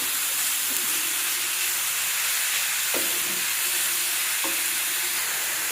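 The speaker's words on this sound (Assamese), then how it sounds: "এতিয়া গাজৰখিনি ভালদৰে মই ভাজি ল'ম।" Carrots frying in ghee in a pan over low flame, a steady, loud hiss of sizzling fat throughout, with a few faint knocks of stirring.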